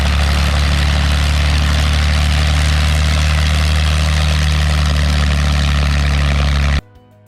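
A P-51 Mustang named Mad Max idles at Oshkosh, its heavy piston engine and propeller giving a loud, steady low rumble and drone that holds at full strength before cutting off abruptly near the end.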